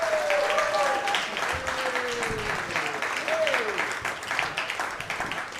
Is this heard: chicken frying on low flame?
no